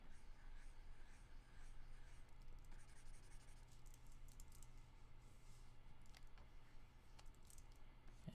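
A pencil scratching on paper on a light box while drawing: faint, continuous light scratching strokes beneath a steady low electrical hum and background hiss.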